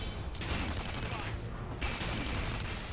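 Rapid automatic assault rifle fire in the online shooter Tribes Ascend, a dense rattling burst that pauses briefly and then resumes, loud and continuous throughout.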